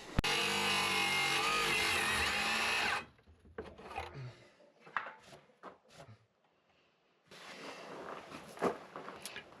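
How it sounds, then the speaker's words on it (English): An oscillating multi-tool cuts into wood, close and loud, with a harsh buzzing drone for about three seconds before it stops. After that come scattered knocks, handling noises, a pause, and then a quieter burst of activity. "with the oscillating tool"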